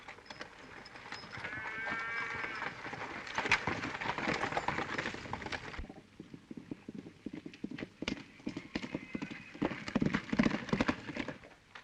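Horse hooves clip-clopping in a 1934 John Wayne western film, a steady run of close, uneven hoofbeats over a noisy background, with a brief squeal partway through.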